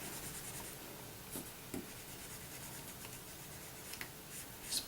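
Paper is being colored red over a sheet of scrap paper for an embossing craft project, giving a faint, continuous scratchy rubbing of the coloring tool close up, with occasional light taps.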